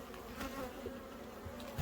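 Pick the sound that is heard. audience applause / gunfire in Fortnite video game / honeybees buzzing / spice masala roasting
honeybees buzzing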